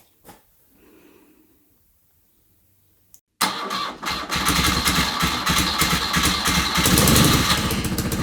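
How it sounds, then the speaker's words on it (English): A custom BMW R80 motorcycle engine cranks briefly, then catches and fires up loudly, settling into a close, steady, throbbing run after a few quiet seconds. "let's see if we can get the bike started with that one"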